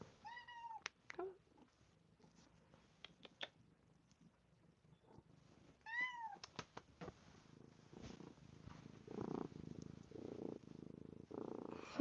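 A young kitten rescued from a Florida swamp purrs softly close by and gives a couple of rising meows. Faint shuffling and handling noises build toward the end.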